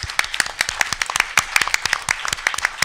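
An audience applauds speakers at a Chicago Sun-Times panel event, a dense, steady round of many hands clapping close by, with sharp individual claps standing out throughout.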